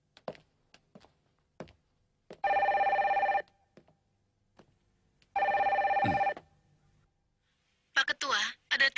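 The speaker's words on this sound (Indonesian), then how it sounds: "ada telepon dari pelatih Berneval" Telephone ringing in the Captain Tsubasa cartoon: two long, loud electronic ring bursts separated by a pause, with scattered taps and clicks around them and voices at the end.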